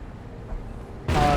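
Artillery barrage in a Company of Heroes 1 match: low rumbling game ambience, then a sudden loud broadband blast near the end, with a brief ringing tail.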